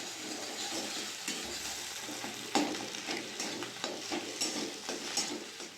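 Eggs being scrambled in mustard oil in a wok, with a continuous soft sizzle broken by repeated scraping and tapping stir strokes at an irregular rhythm, close and moderately loud.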